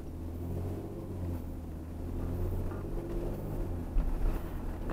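A car drives along a road at night, its engine and road noise forming a steady low rumble throughout, with a slight bump in level near the end and no voices.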